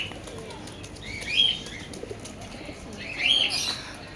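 Pigeons in a pet shop that stocks many breeds, with two short bursts of wing flapping and faint cooing over a steady background of shop noise, no talking.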